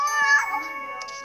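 A cat meows once, close and clear, with a drawn-out tonal call followed by a softer trailing sound.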